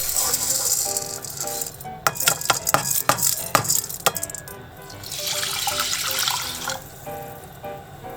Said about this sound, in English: Rinse the rice and add it to the pot with water.